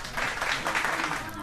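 Audience applause welcoming Phulmaya, a woman invited to share her experience of child marriage at a community programme in Nepal; a steady wash of many hands clapping, moderately loud, with voices mixed in.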